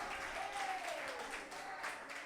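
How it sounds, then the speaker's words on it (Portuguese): Church congregation applauding together in a sustained, dense wash of clapping heard from within the crowd, steady and fairly loud throughout, with a faint sung or called voice gliding above it. "dê um aplauso bem forte para Jesus"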